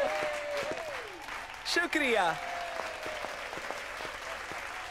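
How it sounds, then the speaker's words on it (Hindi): Applause fills the background steadily while a voice speaks briefly over it. "इनके लिए तालियां।"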